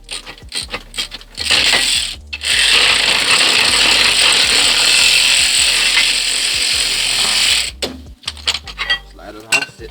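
An impact power tool loosening a brake caliper bracket bolt runs loudly for about five seconds, framed by metallic clinks and handling noises before and after, with no talking.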